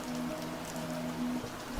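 Rain falls steadily as a soft, continuous patter with light drips, close and even, ending in a brief louder splash.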